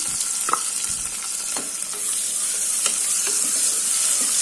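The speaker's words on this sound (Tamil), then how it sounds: "ரெண்டு பெரிய வெங்காயம் நல்லா வந்து செவக்கணும் அந்த அளவுக்கு வதக்கிக்கலாம்" Sliced large onions frying in hot oil with whole spices for a plain biryani: a steady, close crackling sizzle with occasional louder pops and stirring clinks throughout.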